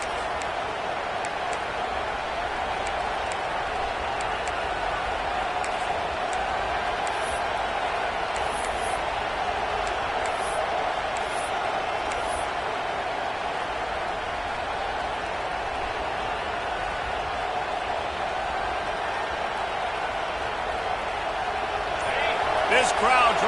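Dense, steady roar of a packed stadium crowd in Madden NFL football, loud and continuous throughout, swelling slightly at the end, with faint whistles and a commentator's voice running underneath.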